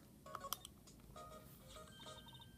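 Touch-tone telephone keypad beeps from the video game Phoenix Wright: Ace Attorney, a short run of quick dialing tones, faint and alone over low background hiss.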